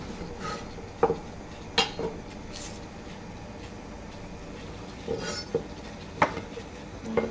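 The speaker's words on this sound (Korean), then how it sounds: "끓는 물에 씻어서 가볍게 손질한 두릅을 데쳐볼 건데요" Scattered clinks of a pot and metal utensils sound while fatsia shoots are blanched in salted boiling water, a few sharp knocks spaced apart over a quiet background.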